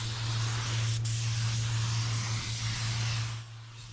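A spray gun with a 1.2 tip hisses steadily and loudly at 27 psi, laying on a heavy coat of fine metallic 46G paint with only slight fluctuations in the continuous airflow.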